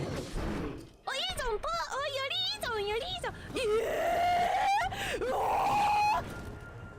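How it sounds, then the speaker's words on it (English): A voice performs a scream for use as a game sound effect: a string of shrill, wavering squeals and yelps that rises into long, strained, high-pitched cries. It is fairly close and heard alone. "That's a scream you can put in your game."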